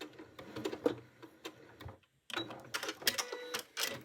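Home sewing machine backstitching fabric for a scrunchie, short quiet bursts of rapid stitching clatter separated by brief pauses, close and faint with no talk.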